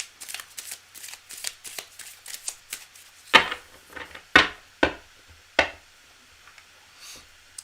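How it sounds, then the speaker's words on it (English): Tarot cards are shuffled by hand, a run of quick papery riffles followed by several sharper, louder card slaps spaced about a second apart, close and clear with no voices. "Cards are already well shuffled."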